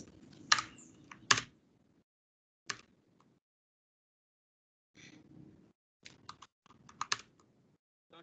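Typing on a computer keyboard during Python coding, with sparse, close key clicks in short clusters separated by silent gaps and a few sharper, louder strikes.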